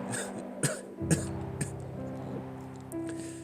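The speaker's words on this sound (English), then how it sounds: "I lose my balance in a coughing fit" Coughing and throat clearing in the video game Hello Charlotte, a few sharp, separate coughs over a soft, steady background tone.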